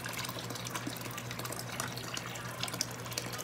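Warm water for a pedicure runs steadily from a tap, a faint continuous splashing gush with small bubbling accents and no voices.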